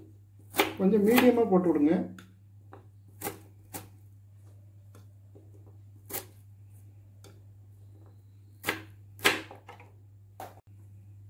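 Several sharp knife strikes chopping an onion on a board, spaced irregularly and close, with someone speaking briefly in Tamil at the start against quiet background hum.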